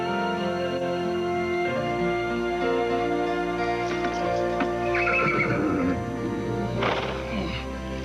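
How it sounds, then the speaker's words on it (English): A horse whinnies and neighs loudly over a steady musical background, with faint hoof clops mixed in. "Carter, come get your horse"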